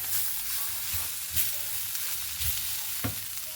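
Crushed black pepper sizzles steadily in a hot pan, with a spoon stirring it in several distinct scraping strokes over a continuous frying hiss; close and moderately loud, no talking.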